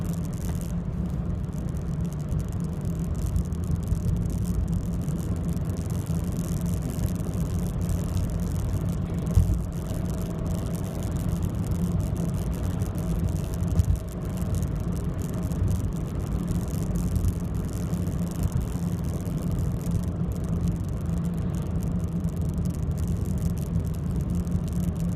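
A car on a driving test route through Bletchley, Milton Keynes, gives a steady, even engine hum and road rumble from inside the cabin as it builds speed, with no talk over it.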